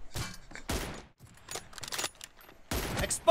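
Gunfire in the mobile battle-royale game PUBG Mobile rings out in several sharp, close bursts separated by short pauses, with a final loud burst at the end.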